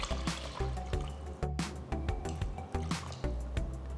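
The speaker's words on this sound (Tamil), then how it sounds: "ஸோ 2 கப் அரிசிக்கு நான் 2 கப் தண்ணி ஊற்றுறேன்" Water sloshes and pours in repeated glugging bursts into a pot of rice for gongura chicken biryani, close up, with a rhythmic splashing pattern.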